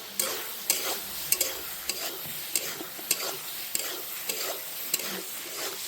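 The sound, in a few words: stirring potatoes with spices in a frying pan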